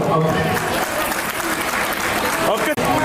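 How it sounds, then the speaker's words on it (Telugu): Guests at a wedding ceremony applauding, a dense, loud burst of clapping filling the room, with talk mixed in beneath it. "అందరూ కూడా సంతోషంగా చప్పట్లు కొడదాం"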